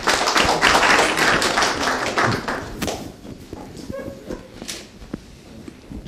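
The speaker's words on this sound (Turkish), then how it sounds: "Alkışlayalım arkadaşlar hep birlikte." Crowd of villagers at an open-air public assembly in Yılmazköy clapping together, a dense burst of applause that swells at the start and thins out into scattered claps.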